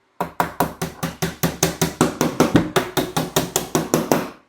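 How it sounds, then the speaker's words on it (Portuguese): Nails are hammered into a wardrobe panel with about twenty sharp, evenly spaced, close-up blows in a fast steady rhythm, with no talking. "E agora eu faço a fixação dessa chapa também com pregos."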